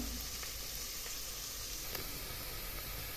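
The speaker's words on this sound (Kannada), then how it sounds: "ಈರುಳ್ಳಿ ಫ್ರೈ ಆಗಬೇಕು ಇನ್ನೊಂದು ಸ್ವಲ್ಪ" Onions fry in a pan for a cucumber-bean pulao, a dense, even sizzle that holds steady throughout, close and fairly loud, with only faint ticks of stirring and no talking.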